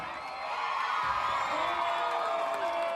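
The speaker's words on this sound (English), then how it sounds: "Spectators cheered with applause and laughter" Spectators in a Venezuelan neighborhood whoop and cheer for an Olympic medalist's bike stunts, a continuous crowd roar of shouts and cheers, with a news voice over it.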